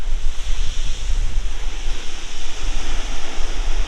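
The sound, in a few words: rough sea waves and strong wind on the Suffolk coast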